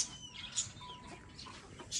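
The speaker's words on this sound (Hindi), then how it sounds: "ये तो मेल है। तो ये देखें माशाल्लाह से हमारे मुर्गे जो है ना बहुत बड़े हो चुके हैं।" Roosters on a poultry farm in Pakistan, giving several short, faint calls and clucks with no one talking, over a soft, steady farmyard background.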